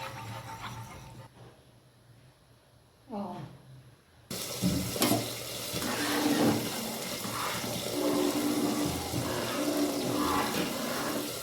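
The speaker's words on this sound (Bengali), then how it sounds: "জলটা একদম ফুটে উঠেছে।" Water for khichuri comes to a rolling boil in a pot, a quiet start giving way to loud, continuous bubbling and hissing close by, with no talking.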